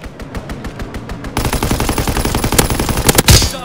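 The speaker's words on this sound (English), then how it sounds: "Strafing run inbound." Aircraft strafing run in Call of Duty WW2, starting as a fast rapid-fire rattle that swells into loud, dense automatic gunfire, ending with a heavier burst.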